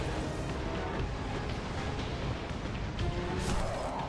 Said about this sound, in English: between him shooting me with his fireballs and him shooting me with his gun